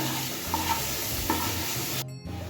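Potatoes are stirred with turmeric, chilli powder, cumin, coriander powder and ginger paste in a sizzling frying pan, a spoon scraping in a few close strokes over a steady fry.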